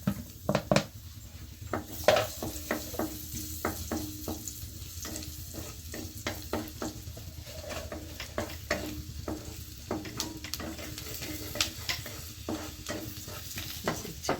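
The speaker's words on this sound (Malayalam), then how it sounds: "അപ്പോൾ നമുക്ക് അതിലോട്ട് ഗാർലിക് ഇട്ട് കൊടുക്കാം." Garlic frying in hot butter gives a continuous crackling sizzle, with frequent scrapes and taps of a utensil against the pan as it is stirred, close and moderately loud, no talking.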